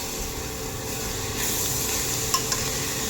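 Mint leaves and tomato sautéing in a pan, a continuous close sizzle with stirring scrapes and a couple of sharp utensil clicks near the end, no voices.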